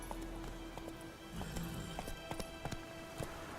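Horse hooves clip-clop in a steady galloping rhythm while riding in the video game The Witcher 3: Wild Hunt, fairly close and moderately loud, with a brief voice and other game sounds behind.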